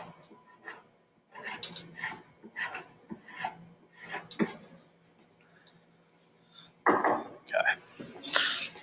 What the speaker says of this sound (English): take my chisel, and what I'm going to do is